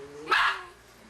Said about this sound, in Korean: 얌전히 있다가 또다시 짖기 시작하는데요